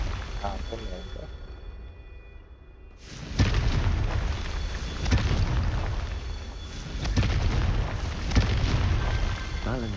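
A loud Confringo blasting-spell explosion in Hogwarts Legacy bursts in after a quieter stretch, followed by sustained rumbling booms and crackling blasts across several seconds.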